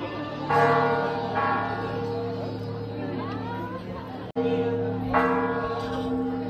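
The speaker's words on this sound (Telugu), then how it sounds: "గంటను కొడతారు." A large bell at Sri Venkateshwara Swamy Temple in Bhuvanagiri rings out in repeated resonant strikes with long humming decay, heard close over a murmur of visitors' chatter.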